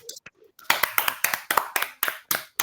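Hand clapping during an online class, picked up through a call: a few light taps with voices at first, then a string of sharp, loud, evenly spaced claps close to the microphone.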